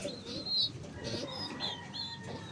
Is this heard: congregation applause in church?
no